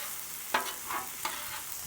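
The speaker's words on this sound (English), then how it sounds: "And now you're going to toast your buns." Slider buns toasting in butter on a flat-top griddle, a soft continuous sizzle with a couple of light scraping touches, close and moderately quiet.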